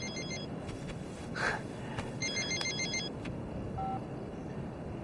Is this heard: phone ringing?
yes